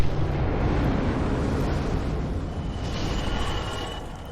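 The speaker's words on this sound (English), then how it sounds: "So let's activate his fire breath again." A dragon breathes fire in the video game Dark Souls, a loud, continuous roaring whoosh of broadband rumble that holds steady and then eases slightly toward the end.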